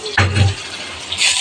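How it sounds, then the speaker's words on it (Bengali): Hot water is poured into a bowl in a short gush, a splashy fill starting abruptly and trailing off after about a second. "একটু গরম জল দিই।"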